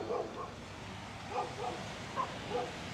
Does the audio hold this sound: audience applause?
no